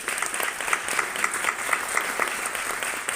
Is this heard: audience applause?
yes